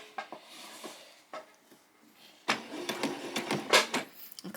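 A sewing machine stitches along the hem of a doll's skirt, starting with a few soft clicks and thumps, then breaking into a louder, busier mechanical chatter close by.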